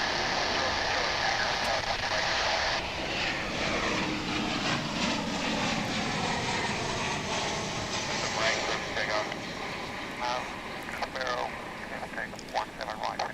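A five-year-old Airbus jet airliner at DFW International Airport roars steadily in the distance, its engine noise sweeping and shifting over several seconds, while people talk over it.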